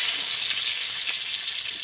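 Pieces of pointed gourd (potol) frying in hot oil give off a dense, continuous sizzle, close and steady through the short stretch, with no voices.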